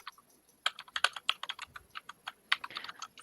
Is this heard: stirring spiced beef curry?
no